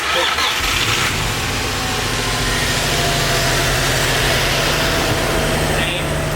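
A Nissan 350Z with a freshly built engine cranks, catches and settles into a loud, rough idle close by, while people talk over it.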